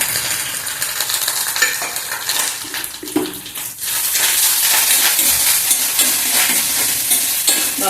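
Grated coconut and curry leaves roasting in a hot pan for a drumstick erissery, a dense continuous sizzle and crackle with scraping stirs, loud and close, with no talk.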